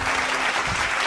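A church congregation clapping together, a dense even burst of many hands filling the room, short and close.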